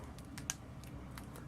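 Small plastic joints of a Hot Toys Homecoming Spider-Man collectible figure click faintly as it is posed, a handful of light, scattered ticks over a soft background hiss, with one sharper click standing out.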